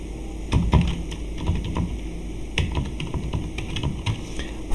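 Typing on a computer keyboard: a quick run of close, light key clicks in irregular bursts over a faint steady hum.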